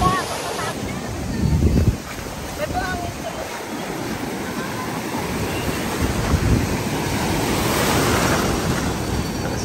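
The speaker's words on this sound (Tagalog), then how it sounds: "Yung alon, napakalakas." Strong ocean waves at a beach in La Union, a continuous roaring surf wash with heavy wind buffeting the microphone, loudest in a gust near the start, with faint voices underneath.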